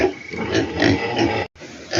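Pigs grunting and oinking in a farm pen with old corrugated iron roofing during the rainy season, a continuous close, rough chorus of snorts with a brief break near the end.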